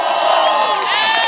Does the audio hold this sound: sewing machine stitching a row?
no